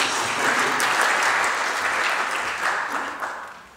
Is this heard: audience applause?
yes